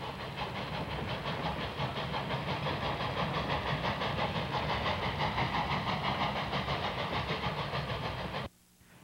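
An ET&WNC Tweetsie locomotive train runs on rails through the mountains, a loud, dense, steady rumbling roar with a rapid rhythmic pulsing, close by, cutting off abruptly near the end.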